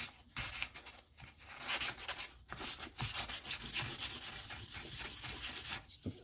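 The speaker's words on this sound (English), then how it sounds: "It's the fine 1000 grit sandpaper." Steady rubbing of fine 1000 grit sandpaper on a rusty quick release skewer from an old Trek bike, in repeated back-and-forth strokes, close and soft with short pauses between passes.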